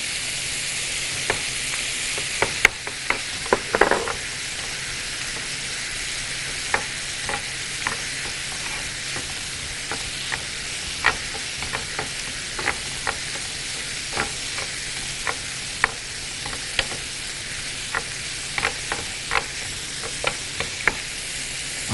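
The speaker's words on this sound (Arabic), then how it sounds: "هذا ابدي احمسه" Food sautéing in a pan in an Iraqi home kitchen, a steady sizzle with scattered stirring scrapes and clicks, close and continuous with no talking.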